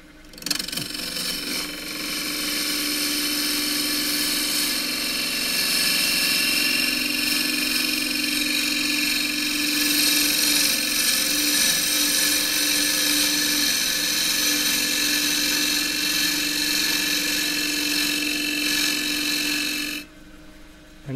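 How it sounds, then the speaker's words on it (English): A wood lathe spins while a quarter-inch deep fluted bowl gouge cuts a cross-grain wooden box, giving a loud, steady whirring and scraping that runs unbroken for about twenty seconds before stopping abruptly. "I'm going to use this quarter inch deep fluted bowl gouge"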